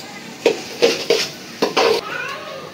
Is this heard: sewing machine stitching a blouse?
no